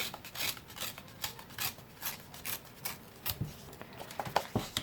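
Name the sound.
tearing edges of paper for a pocket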